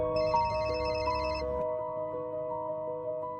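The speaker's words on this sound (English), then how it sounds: "A phone rings." A mobile phone ringtone in a dubbed drama scene plays a melodic electronic ring, close and steady, its fuller opening giving way to a thinner repeating tone that carries on alone without speech.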